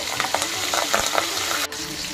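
Mustard seeds, chopped green chilies and curry leaves crackle and sizzle steadily in hot oil, with light stirring taps and pops throughout.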